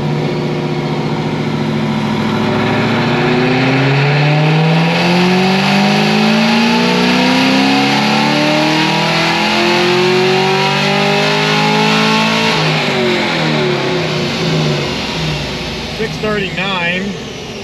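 A Cadillac CTS-V engine revs hard and climbs steadily in pitch through a sustained pull during a timing test, then drops off near the end, loud and close throughout.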